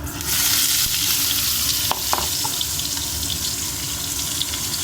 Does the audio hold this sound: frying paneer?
yes